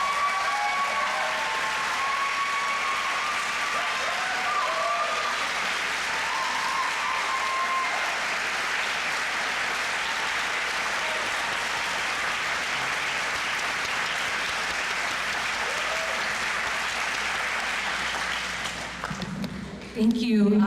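An audience applauds after a speech at an end-of-summer celebration: dense, sustained clapping from a large crowd, steady and loud throughout before fading at the very end.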